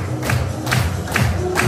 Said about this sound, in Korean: 음악에 맞춰서 큰 박수 부탁드리겠습니다